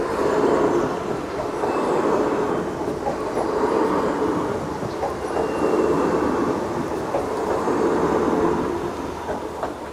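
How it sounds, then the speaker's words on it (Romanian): A train rumbles past a lowered-barrier level crossing near Östersund, Sweden, a steady, loud rolling roar with faint wheel clatter holding for the full ten seconds, no voices. "Trebuie să apară trenul oricând."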